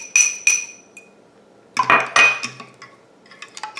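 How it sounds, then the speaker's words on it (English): A fork whisks olive oil and beaten egg in a bowl for pizza crust dough, giving a few bright, close clinks of metal on the bowl, a short pause, then a busier cluster of scraping taps. "Stir it with my fork."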